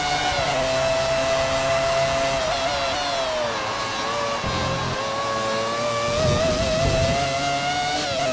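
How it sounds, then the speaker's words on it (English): Modded F1 car engines in the video game F1 1999 during a Brazilian Grand Prix race, a loud continuous high-pitched engine whine that rises and falls with gear changes, steady and close. "The sound of the engines just brings back good memories of what the engine sounds are like."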